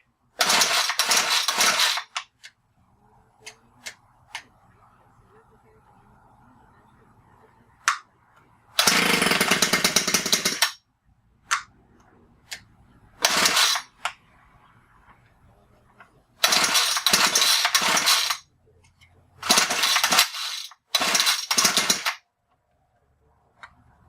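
Lawn mower engines are cold started in repeated attempts: several loud, rough bursts of pull-start cranking and sputtering, each lasting a second or two, separated by quiet gaps with faint handling noise and brief sounds in between.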